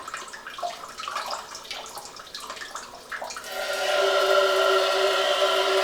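A bidet's front wash sprays water in a steady, loud hiss that starts partway through, preceded by softer splashing and trickling.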